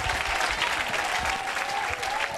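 A church congregation claps hands during a worship service, a dense, steady roar of applause that stays loud and unbroken from start to finish.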